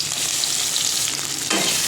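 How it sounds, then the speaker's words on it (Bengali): Onion and chili drop into hot fish oil and fry with a close, crackling sizzle, with stirring scrapes and a sudden louder burst of frying near the end. "এই তেলের মধ্যে সবার ফার্স্টে দিয়ে দিচ্ছি পেঁয়াজ আর লঙ্কা"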